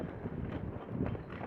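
Gusty wind buffets outdoors in a Dutch town in light rain, a rough, fluctuating rumble close to the microphone with no talk.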